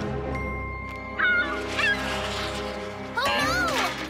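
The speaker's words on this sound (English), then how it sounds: "The seagull is back." A cartoon seagull lets out two loud honking squawks, one then another a couple of seconds later, over a sustained musical background in a children's animated show.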